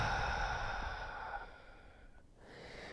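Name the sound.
deep breath exhale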